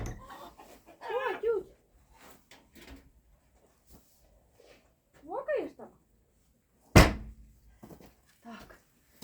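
Rooster clucks and crows rise in short bursts around a farmyard, with a sharp bang partway through and faint movement between calls.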